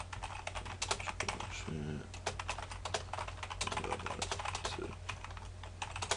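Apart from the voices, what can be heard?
typing on a computer keyboard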